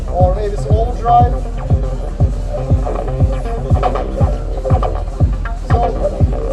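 A synth track runs through an overdrive effect: a loud, regular thumping beat with buzzing, saturated tones. Talk sits over the music.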